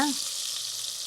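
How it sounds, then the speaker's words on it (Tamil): Thinly sliced onions sauté in a pan, giving a steady, close hissing sizzle that holds evenly for about a second. "வெங்காயம் நல்லா வதங்கணும், நிறம் மாறி வதங்கணும்"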